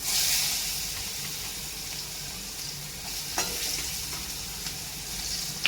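Onions sautéing in a pan for Gujarati upma, a steady close sizzle with intermittent stirring scrapes and light clinks, no voices.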